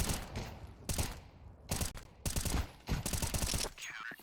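Bursts of rapid gunfire from a Counter-Strike match on the Ancient map, several loud volleys and single shots separated by brief pauses, with no speech over them.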